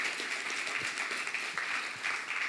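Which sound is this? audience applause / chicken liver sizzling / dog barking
audience applause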